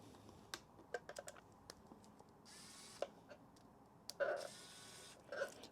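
A small screwdriver works a heater cartridge loose from a Trianglelab 3D-printer hotend: faint, close metallic ticks and light scraping clicks, scattered and irregular, with brief bursts of rattling in an otherwise quiet room.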